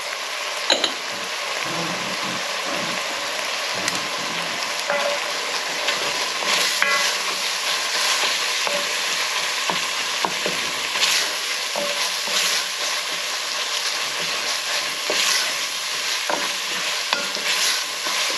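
Ground beef frying in its own fat with black pepper and salt in a pan, a continuous crackling sizzle with scattered sharper pops, steady and close, with no talking.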